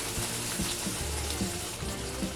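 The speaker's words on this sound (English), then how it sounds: "pardon the sizzling sounds in the background because I'm making another burger right now" A burger patty sizzles in a pan, a steady hissing fry noise heard faintly in the background, without talk.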